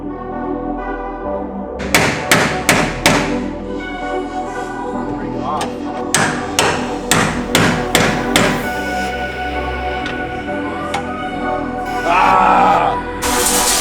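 Pinch welds on a Nissan 370z take a string of hard, close hammer blows in uneven bursts of metallic thuds and bangs, with someone talking between the strikes.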